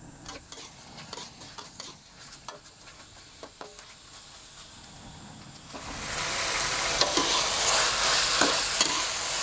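Pork stir-fried in a pan with oyster sauce, fish sauce and seasoning for garlic-pepper pork, a few scattered spatula taps at first, then a louder steady sizzle with stirring from about six seconds on.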